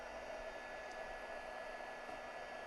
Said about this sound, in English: I'm just going to go back in with my heat tool.